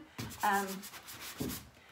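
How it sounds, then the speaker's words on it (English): Two short rubbing strokes of a sanding block scrape across painted wood, close and quiet, with a brief squeak in the first stroke. "I did actually do some sanding with my sanding block"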